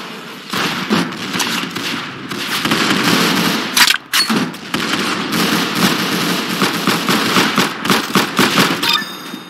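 Rapid automatic gunfire from the Roblox shooter game Arsenal crackles in dense, continuous bursts, with a brief pause near the middle before the volleys resume and thin out toward the end, with no voices.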